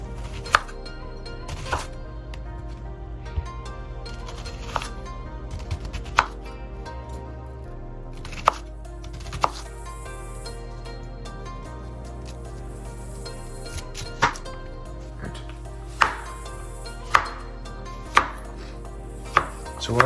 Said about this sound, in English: Now we're on to cutting up this onion.